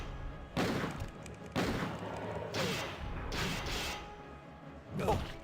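About six loud, punchy video game gunshots ring out at irregular intervals during a speedrun, each with a short echoing tail, and faint voices sit underneath.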